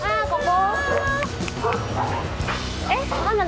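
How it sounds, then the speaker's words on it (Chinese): Several big dogs bark and yip close by in a busy outdoor spot, with people talking over the barking throughout. "狗狗"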